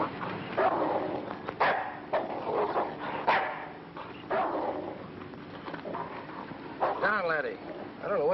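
A dog barks repeatedly in short yaps with a few whimpers, fairly close, in a 1958 horror film, while people talk over and between the barks.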